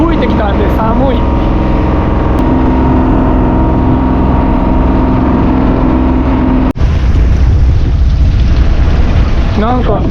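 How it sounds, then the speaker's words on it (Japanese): Wind blows hard across the sea aboard a small fishing boat out after shrimp and black sea bream, as a loud constant rumble and roar mixed with the drone of an engine, while a person talks. "ちょっと吹いてきたんで寒い。"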